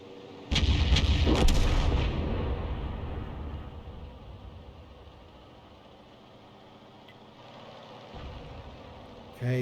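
A tank's main gun fires premium ammunition in a tank video game, the M53/M55 artillery. One loud, booming shot opens the clip, then a long rumbling decay over steady engine noise, with a softer thump near the end.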